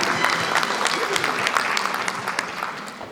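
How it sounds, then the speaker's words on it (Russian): An audience at the final of a talent contest applauds a contestant, a steady, dense clapping that fills the room and slowly fades, with a voice faintly underneath. "Поддержим конкурсантку аплодисментами"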